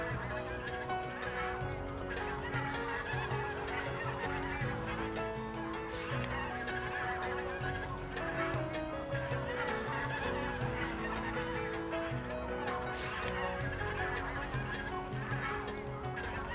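A flock of geese honks continuously, many overlapping calls blending into a steady noisy chorus at moderate distance.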